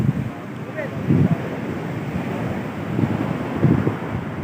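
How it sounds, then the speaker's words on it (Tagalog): Ocean waves roll onto the shore at Baler, Aurora, a rumbling surf washing in repeated surges under steady wind noise buffeting the microphone. "Kita niyo yan, yung mga alon."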